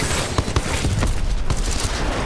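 Rapid, continuous gunfire in a Titanfall-style video game with wall-running and mechs, forming a dense barrage of overlapping bursts close up.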